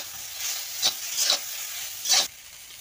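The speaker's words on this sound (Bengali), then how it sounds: "ঝাল লাল লঙ্কা বাটা দিলাম।" Red chili paste, added to ground cumin and poppy seed paste with turmeric for a potato and pointed gourd curry, sizzles steadily in a pan while a spoon stirs it in several short scraping bursts, close and fairly loud.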